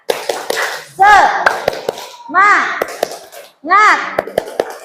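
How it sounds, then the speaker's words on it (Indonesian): A primary class chants in children's voices while clapping a rhythmic spirit clap, sharp hand claps ringing out in quick patterned bursts between three sung phrases, loud and close. "kita tepuk semangat terlebih dahulu. Tepuk semangat."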